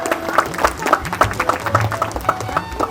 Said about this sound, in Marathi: टाळ्या वाजवून टाळ्या.